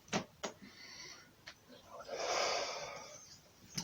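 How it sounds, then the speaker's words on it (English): Breathing in and out during an exercise routine, with a couple of sharp short breaths early on and then a longer, louder exhale of rushing air, close and clear. "One last round, breathe in. Out, breathe in."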